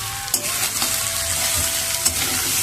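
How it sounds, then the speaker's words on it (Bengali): Vegetables for a veg momo filling stir-fry in a hot pan: a loud, constant sizzle broken by a few sharp scraping clicks from stirring, with no talking. "ভালো করে সবজিটা এবার ভাজবো, ভালো করে ভাজা হয়ে যাবে।"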